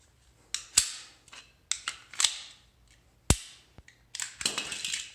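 An empty magazine is pushed into a pistol so the slide can be taken off, producing a series of sharp metallic clicks and clacks at close range, some crisp and isolated, others in short rattling bursts.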